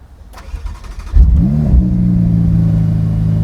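A Ferrari F8 Tributo engine with stock exhaust cranks and fires up, revs briefly, then settles into a steady, loud, close idle.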